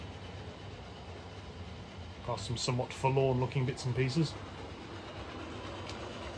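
A model railway locomotive hauling a long rake of coaches gives a low, steady rumble that runs throughout, with a person talking over the middle stretch.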